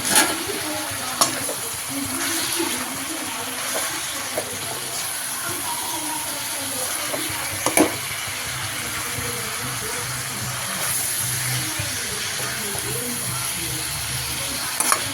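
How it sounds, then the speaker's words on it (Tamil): Peas, tomato and onion sauté in a pan for pattani masala with a constant loud sizzle, broken by occasional sharp clicks and scrapes of stirring. "இந்த பட்டாணி தக்காளி வெங்காயம்லாம் நல்லா வதங்கி வரணும்."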